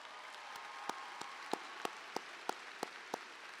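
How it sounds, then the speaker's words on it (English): Faint, evenly spaced handclaps sound slowly and steadily, about three per second, in a distant, quiet space at a high school graduation ceremony. "can we get a round of applause, please"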